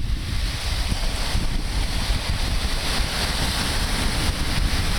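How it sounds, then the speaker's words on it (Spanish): On the beach at Bucerías, Riviera Nayarit, Mexico, steady wind buffets the microphone over the continuous wash of sea waves on the shore, with no voices. "olas y viento. Viento suave, acariciando"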